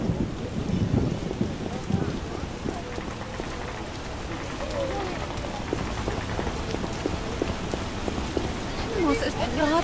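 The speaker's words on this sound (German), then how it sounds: "Muss es denn gerade jetzt regnen? Was für ein Wolkenbruch." Heavy rain pours steadily with rolling thunder rumbling underneath, a dense, continuous downpour close by, in the video game The Witcher, in Vizima's trade quarter.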